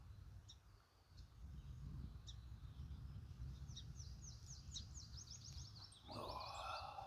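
Birds chirp and twitter at dawn around a campsite tent, a scatter of faint distant calls building into a quick run of tweets over quiet ambient hiss.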